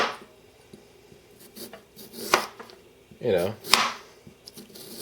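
A chef's knife cuts through a potato on a cutting board, making several sharp, close chopping thuds and scraping strokes, with brief speech in between.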